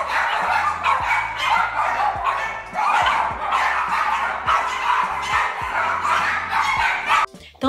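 Several dogs bark repeatedly in quick, overlapping bursts, loud and close, with a few higher yips mixed in.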